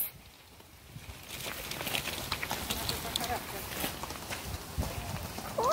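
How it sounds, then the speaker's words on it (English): Horse hooves clip-clop outdoors in an irregular rhythm, moderately close, with people talking over them and a few bird chirps. "Cool, a horse."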